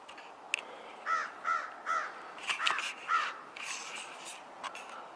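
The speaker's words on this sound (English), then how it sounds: "there's a crow" A crow caws outdoors in a quiet natural setting, five or six harsh calls in a steady rhythm at moderate distance, followed by fainter bird sounds and no talking.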